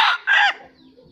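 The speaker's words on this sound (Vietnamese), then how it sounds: "Đây là một con gà tơ 7 tháng tuổi" A seven-month-old young F3 jungle fowl hybrid gives two short, close, loud crowing calls in quick succession, the second rising and fading, followed by quiet background.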